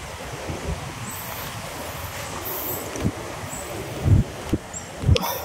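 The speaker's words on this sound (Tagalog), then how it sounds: "Lakas ng hangin." Strong wind roars steadily against the microphone at sea while fishing, with gusty low thumps buffeting it now and then.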